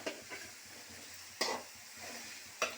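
A spoon stirs a sizzling tempering mixture in a pan, with soft repeated scrapes and a few sharper strokes over a low, steady frying crackle, heard close and without talk.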